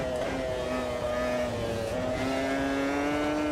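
A sim racing game car engine revving hard in a high gear with a thin, buzzing, moped-like tone, steady and continuous with slight pitch shifts and no talk.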